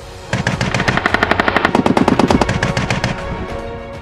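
A roof-mounted or coaxial 7.62mm machine gun on an M1A2 Abrams tank fires one long sustained burst, rapid evenly spaced loud cracks for about three seconds, heard alone at close range.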